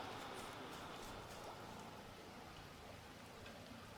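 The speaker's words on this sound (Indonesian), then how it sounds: "Di sini kayaknya kena hujan ya." Steady rain falls in the jungle survival video game Green Hell, a constant dense hiss of drops on foliage and ground, quiet and unbroken.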